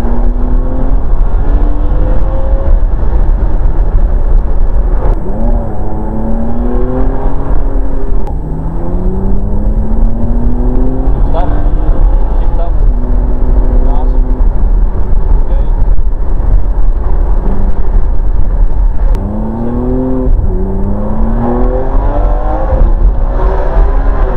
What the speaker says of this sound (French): Le son d'une Ferrari est donc à peu près inimitable et impossible à filmer et à capter adéquatement avec une caméra.